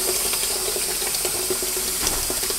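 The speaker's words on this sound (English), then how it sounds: "I put the water on high" A kitchen faucet turned on high runs steadily into a sink, with a constant splashing stream and small irregular clinks and drips on top of it.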